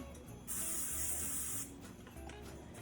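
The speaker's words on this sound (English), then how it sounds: "So, little butter spray." A single steady hiss of butter cooking spray lasting about a second, close and fairly quiet, with faint background noise before and after.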